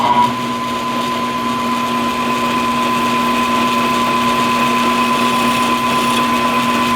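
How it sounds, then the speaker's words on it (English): A number 16 bit drills holes in a center support during an AK build, giving a steady, continuous high motor whine with no pauses, close and loud throughout. "these two we will then drill with the number 16"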